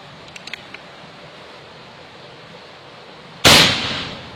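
After a long quiet stretch with a few faint ticks, a single sharp, loud AFC Anaconda Sniper Elite air rifle shot cracks nearby and its echo fades quickly.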